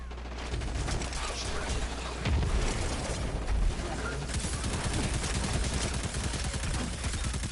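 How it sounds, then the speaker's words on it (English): Homing missiles launch and explode in the video game Destiny 2, a dense, continuous barrage of rapid blasts and crackling detonations with low booms, loud and busy from start to finish. "Homing missiles, gotta love it."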